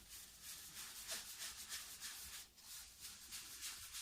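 Paintbrush bristles rub back and forth into white paint on cardboard, a faint, close, rhythmic brushing scratch.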